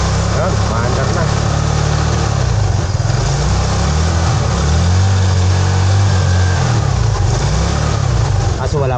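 An engine runs steadily and loud throughout, a constant low rumble with slight shifts in pitch, close by, with no clear separate start.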